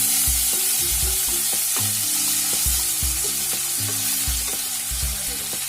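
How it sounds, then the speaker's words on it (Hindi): Chopped tomato and chili frying in a pan for a spring onion and potato masala, with a steady bright sizzle throughout and repeated loud scraping and clattering of a spoon stirring against the metal pan. "अब हम इसमें चॉप किया हुआ टमाटर और मिर्ची डाल देंगे।"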